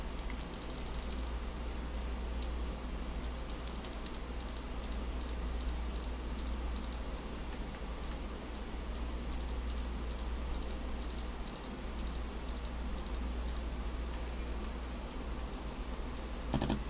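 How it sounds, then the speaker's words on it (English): Sharp clicks from the solenoid of a DM8 paintball marker fitted with a high-performance o-ring kit, repeating in irregular bursts over a steady hiss of air and hum, close and clear with no talking. "that's all solenoid click"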